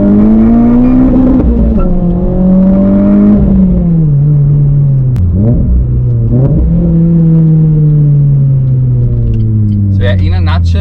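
A car engine at low revs around 2,500 RPM pulls with loud, throaty induction noise, its pitch rising and falling as the throttle varies, then settling into a steady drone close by.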